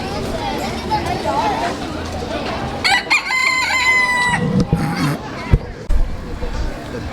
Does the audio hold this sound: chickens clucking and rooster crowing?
yes